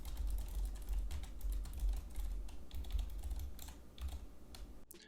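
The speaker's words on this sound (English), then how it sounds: "My keyboard's not that loud. I actually have a membrane mechanical keyboard." Steady typing on a membrane mechanical computer keyboard, a quick irregular patter of fairly soft keystrokes that runs continuously and stops abruptly at the end.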